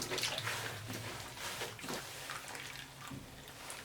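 A cosplay wig is scrunched and rotated by hand in a basin of water with shampoo, giving continuous sloshing and swishing water sounds with soft splashes, steady and close.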